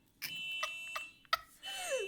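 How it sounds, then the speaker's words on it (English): A car alarm in the BeamNG.drive video game gives short, high-pitched electronic beeps in a few separate bursts, then a wavering, descending siren tone. It sounds thin and fairly faint over a quiet background. "That's really funny, alarm. I can't believe it. This is so realistic. It's high pitch and little."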